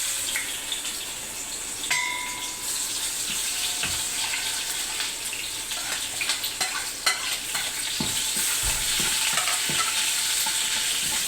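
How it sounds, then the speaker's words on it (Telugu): Spices dropped into hot oil for tempering mango dal hiss and sizzle steadily, with crackling pops and occasional utensil clinks close up, the frying noise continuous and fairly loud with no talk. "ఇక పోపుకి నూనె పెట్టేసుకున్నానండి, పోపు వేసేసుకుంటున్నాను."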